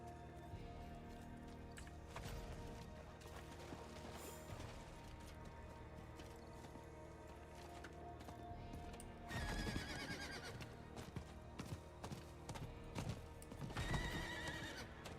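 A horse in a video game neighs and gallops, rhythmic clip-clop hoofbeats under a steady game soundscape, with loud whinnies breaking out near the middle and again toward the end.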